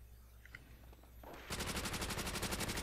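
An MP40 submachine gun fires a sustained automatic burst in Call of Duty: World at War, rapid evenly spaced loud shots starting abruptly after quieter game ambience.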